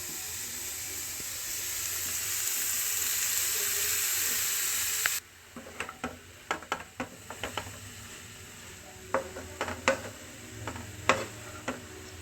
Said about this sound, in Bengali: কিছুক্ষণ হালকাভাবে একটু ভেজে নিতে হবে এই গাজরগুলোকে।